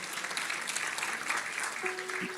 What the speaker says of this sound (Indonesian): Kasih tepuk tangan untuk saudari kita.